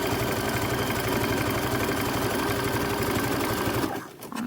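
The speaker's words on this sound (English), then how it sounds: "stitch with a 1/4 inch seam allowance, and then flip and top stitch" A sewing machine stitching a boxer brief seam, running in a fast steady rhythmic chatter close up for about four seconds before stopping abruptly with a few mechanical clicks.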